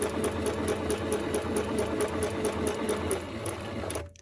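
Close by, a sewing machine stitches paper under steady pedal pressure, a rapid even whirring with a rhythmic needle tick throughout, stopping abruptly at the end.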